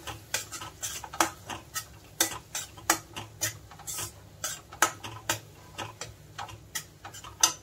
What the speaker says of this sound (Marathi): एकदा याला मिक्स करून घेऊया।